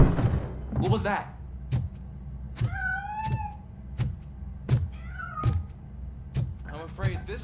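A cat meows in the Robocop Rogue City video game: two or three clear, drawn-out mews stand out amid steady game ambience and sharp intermittent thumps, with a voice heard at the start.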